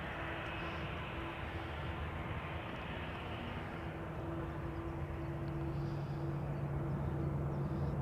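KLM Boeing 737-800 departing Amsterdam Schiphol, a faint, steady jet roar with a sustained whine, heard from a distance and building slightly toward the end.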